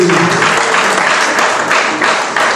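A church congregation at a Sunday worship service applauds loudly, a dense, continuous wash of many hands clapping that fills the room without a break.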